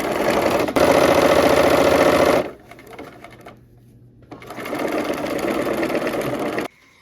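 A sewing machine back stitches across a seam joining twelve pumpkin-shaped fabric slices, running in loud steady bursts: one long stretch, a brief pause with a low hum, then another sustained run before stopping.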